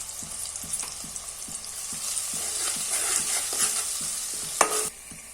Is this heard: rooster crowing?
no